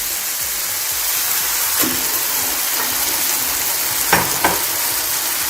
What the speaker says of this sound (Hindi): और इसे करेंगे अच्छे से फ्राई